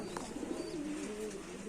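Rajshahi Giribaz pigeons give one soft, drawn-out coo, quiet and close against a low background hiss, with no talking.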